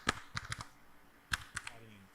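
A web address being typed on a computer keyboard: soft, close key clicks in two short bursts, a quick cluster at the start and another after a brief pause, quiet and with no speech over them.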